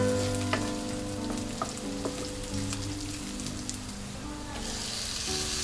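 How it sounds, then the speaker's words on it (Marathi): Sliced carrots sautéing with onions in oil for a mussels biryani, a gentle continuous sizzle with a few soft stirring knocks and scrapes, close and fairly quiet, the frying swelling near the end. "यामध्ये आता आपण गाजरचे स्लाइस केलेले तुकडे घेत आहोत, त्यालाही आपण कांद्यामध्ये चांगलं परतून घेऊया।"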